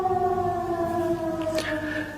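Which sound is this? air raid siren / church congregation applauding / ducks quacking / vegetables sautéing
air raid siren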